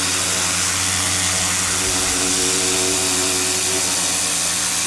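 A pressure washer sprays across a carpet with a loud, steady, unbroken roar of motor and water that holds at one level throughout.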